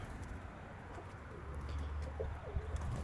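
Pigeons coo softly at a home loft, a low, quiet, rounded call over faint background hum with no talking.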